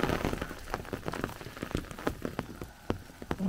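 Rain falls steadily on plants and ground outdoors, with heavy crops lodging under the downpour; dense patter of drops with sharp individual splats close by, continuous throughout and alone without talk.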